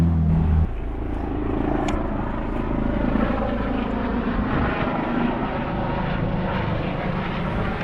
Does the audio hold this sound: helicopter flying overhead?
yes